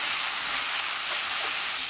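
Mixed vegetables and egg stir-fried in a wok, a steady dense sizzle with faint scraping of stirring, close and continuous with no talk.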